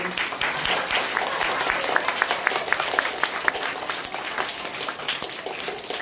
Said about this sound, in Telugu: మనం పెద్దగా చప్పట్లు కొట్టుకుంటాం